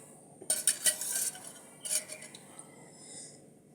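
Ghee is ladled into a kadai pan with clinking metal ladle strikes in a few quick bursts, then another short clatter, close and fairly faint in a quiet kitchen.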